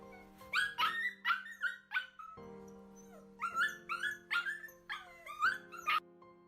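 A found dog yelps and whimpers in a string of high, pitched cries, clear and close, coming in two clusters with short pauses and no talk.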